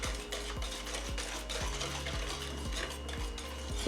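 Eggs are mixed into a sugar and Guinness mixture for a Jamaican spiced Easter bun, with a steady whirring beater or stirring that thumps in a regular rhythm about every half second under a constant motor hum.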